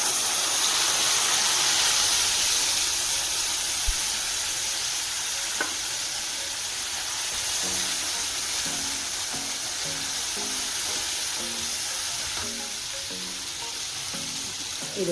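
Ground masala paste for a Tamil Nadu style fish curry sizzles and fries in a pan, a steady loud hiss broken by a run of stirring scrapes and clinks near the end, with no voices.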